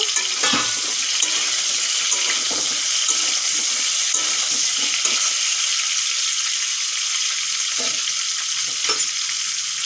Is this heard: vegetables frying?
yes